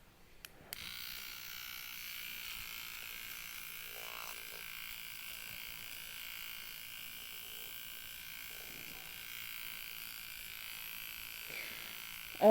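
Electric eyebrow trimmer running over taut skin, a faint steady high buzzing hum that continues evenly and close, with a small click at the start and end.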